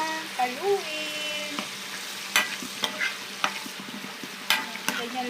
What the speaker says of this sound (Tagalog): And then, haluin lang natin siya na haluin.